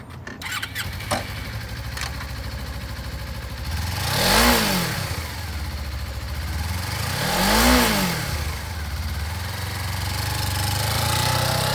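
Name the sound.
Suzuki GW250F sport twin motorcycle engine revving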